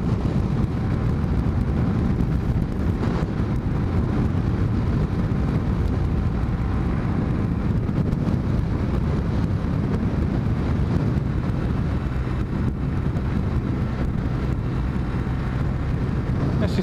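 Constant heavy wind buffeting roars over the microphone while riding a Kawasaki W800 motorcycle on the road, a dense unbroken rush with the engine buried beneath it.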